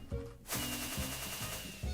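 Fireworks launching in Minecraft, heard as a few sharp, close pops with a sustained hiss between them, repeated in quick succession with no voices.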